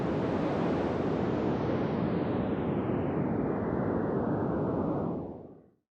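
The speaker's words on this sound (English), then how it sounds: "Let's start with a breeze again and see what happens." A whooshing wind sound effect portrays a wolf blowing a breeze: steady, loud, rushing noise that holds evenly for about five seconds, then fades quickly to silence.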